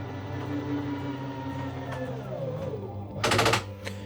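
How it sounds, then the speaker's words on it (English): The slide-out room of a 2023 Forest River Sabre 38DBQ fifth-wheel RV retracts under a steady motor hum, ending in a loud, rapid burst of ratcheting clicks from its slip gear, followed by a single softer click. "Ratchety noise means it's all the way in. It's a little slip gear system."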